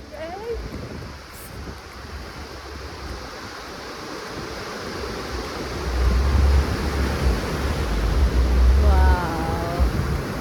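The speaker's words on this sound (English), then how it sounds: "Right, I have reached the beach." Ocean waves wash onto a beach in South Goa with a broad, steady surf roar that swells louder partway through, mixed with wind noise against the microphone.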